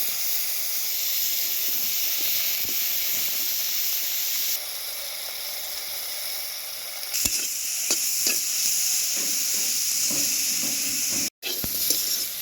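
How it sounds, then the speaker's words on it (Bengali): Eggplant pieces coated in salt and turmeric fry lightly in a pan, giving a steady close sizzle and hiss with occasional scraping stirs and clinks, without voices. "বেগুনগুলো আমার হালকা ভাজা হয়ে গেছে"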